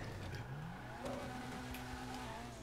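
A video game car engine drones and revs steadily at moderate loudness, its pitch rising and falling as it accelerates, with faint scattered clicks and no talking.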